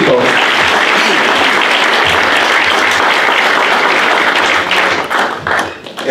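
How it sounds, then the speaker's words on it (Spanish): A church congregation applauds during a Sunday service baby presentation, loud sustained clapping from a large crowd that holds steady for several seconds before tapering off near the end. "Den un aplauso a Cristo."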